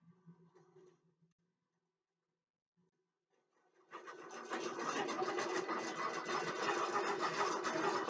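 Qbot computerized quilting machine stitching out a quilt, a steady dense mechanical whir that starts abruptly midway and runs continuously to the end after a quiet stretch with faint handling sounds.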